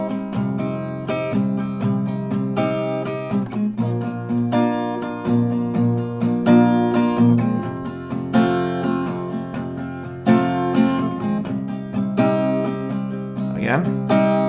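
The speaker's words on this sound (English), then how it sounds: "1 chord progression with the strumming will sound like this" Acoustic guitar strumming a chord progression from a song, steady rhythmic strums ringing out clearly and close, with a slide squeak near the end.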